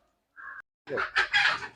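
Native country chickens at a farm give a short burst of clucks: one brief call, then a quick run of sharp, close clucks.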